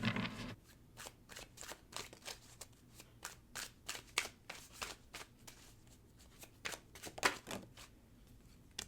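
Tarot cards being handled and drawn from a deck: a rapid run of crisp, dry card flicks and riffles, close and fairly quiet, with no voices.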